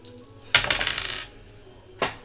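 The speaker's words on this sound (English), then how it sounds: "let's go and shuffle up these dice" Dice rattle and clatter as they are shuffled in a cup: a sudden burst of rolling clicks lasts about a second, fades, then a second sharp rattle comes near the end.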